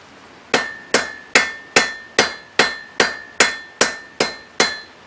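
About a dozen rhythmic hammer blows ring out on hot steel on an anvil while forging a leaf hook, evenly spaced and close. Each strike is a crisp metallic clank with a short ringing tail.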